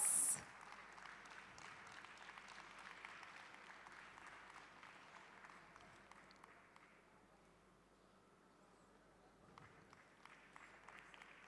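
An audience of tennis fans at a summit gathering claps in a sustained, fairly distant round of applause that thins out and fades midway before a smaller flurry of clapping picks up again.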